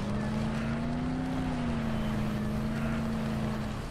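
A car in the video game Dead Island drives over rough jungle terrain, its engine holding a steady droning hum with slight pitch shifts under constant rumbling noise.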